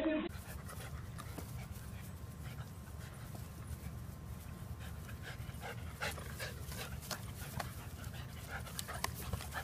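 A dog pants steadily and close by, with quick rhythmic breaths running through the whole stretch and a person talking over it.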